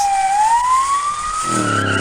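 Police car sirens in the video game Virginia, a loud close wail rising steadily in pitch, with a second lower siren tone coming in near the end.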